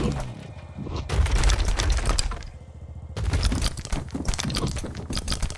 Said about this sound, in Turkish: ya kırılması çok rahatlatıcı